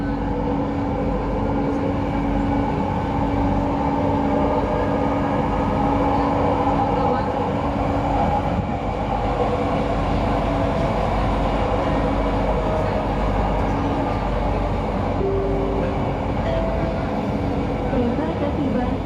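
Interior of an LRT Jabodebek light rail train in Jakarta running between stations, a steady close rumble and hum of the car with faint background voices throughout.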